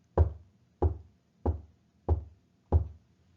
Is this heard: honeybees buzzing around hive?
no